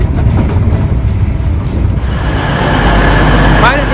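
Steady rumbling station noise inside St Pancras International in London, a loud broadband wash of trains and concourse hubbub with a brief rising squeal near the end, while voices mutter underneath.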